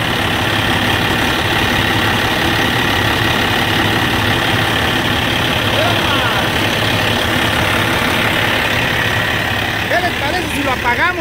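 A black 660 vehicle's engine idles with a steady, loud rumbling drone that runs continuously, while people talk over it.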